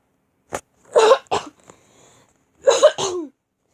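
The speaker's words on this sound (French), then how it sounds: "Il fallait vraiment que je tousse" Several close, sharp coughs come in two short bursts separated by a pause, with no speech, recorded indoors in a room.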